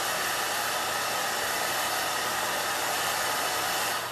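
A hair dryer blows hot air over a Belle Tress Toledo synthetic wig, a loud, steady whooshing roar held at constant strength from start to finish with no other sound.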